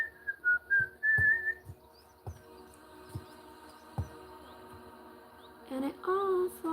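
Someone whistles a short wavering melody up close, first a few sliding notes and then a brighter burst near the end, with soft knocks and thumps of work in between.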